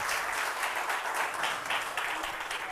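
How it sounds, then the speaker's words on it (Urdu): An audience at a religious lecture claps together in a sustained, even wash of applause, moderately loud and continuous. "ان کے لیے تالیاں بجائیے"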